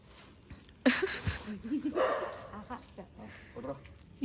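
A dog barks a few times at a home during the Diwali festival. The short barks are mixed in with nearby voices and household sounds.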